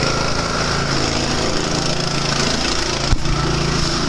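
Construction work inside a new house during installation of wooden baseboards and trim, a loud steady power-tool drone with a sharp knock near the end.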